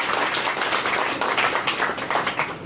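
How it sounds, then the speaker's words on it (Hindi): A crowd at a political gathering claps steadily to welcome a speaker, a dense patter of many hands filling the room without pause. "एक बार जोरदार तालियों से उनका स्वागत करते हैं।"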